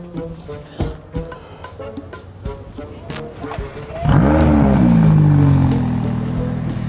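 A car engine starts with a sudden burst and rises into loud, close revving that holds steady and then eases slightly, following scattered knocks and clatter, with people talking.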